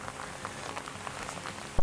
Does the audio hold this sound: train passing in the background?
no